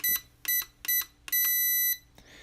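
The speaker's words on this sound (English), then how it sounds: "Go back this way, you got a long beep in the middle" An RC car radio beeps as its steering trim moves: three short beeps come in even succession, then one longer beep marks the center position. The beeps are close, clear and alone.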